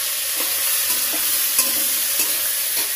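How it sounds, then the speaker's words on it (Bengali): Ginger, cumin and dried chili paste fries in a pan during a village-style fish roe recipe, giving a steady close hiss broken by a few faint stirring scrapes, with no talking. "তো মশলাটা একটু কষিয়ে নেব"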